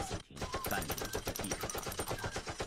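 Heavy machine gun fire erupts in a war drama battle, a loud, dense and sustained stream of rapid shots with rattling bursts filling the whole stretch without a break.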